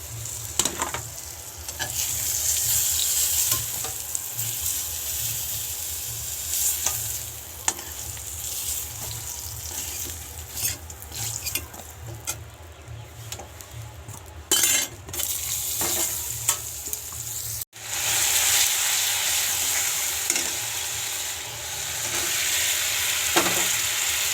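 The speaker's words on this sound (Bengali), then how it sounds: "এই যে পটল ভাজছি" Pointed gourd (potol) pieces fry in a pan with a continuous close sizzle, punctuated by repeated scraping and clattering stir strokes over about twenty seconds, with no voices.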